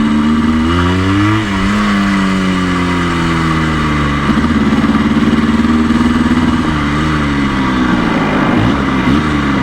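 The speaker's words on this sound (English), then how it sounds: "I think it might let you just listen to the engine" A 1984 Yamaha RS 125 two-stroke motorcycle engine while riding, loud and close, rising and falling in pitch through repeated revving and gear changes, with no talking.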